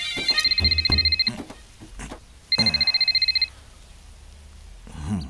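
A telephone rings in two bursts of rapid electronic trilling separated by a pause, fairly loud and close, with brief voice sounds around the rings.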